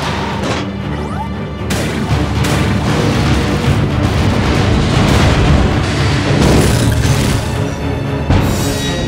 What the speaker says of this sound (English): Cyborg, concentrate fire on Luca while I call down some artillery.